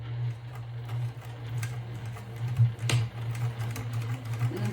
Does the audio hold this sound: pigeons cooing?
no